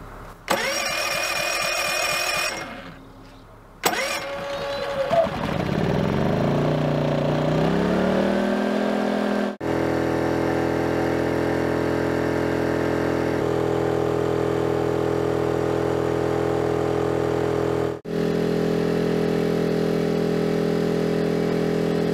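EcoFlow dual fuel smart generator running on gasoline auto-starts when an EcoFlow Delta Max is switched on: a cranking whirr cuts out, cranks again, catches, and the engine revs up to a steady loud drone that holds close and continuous with a brief dip.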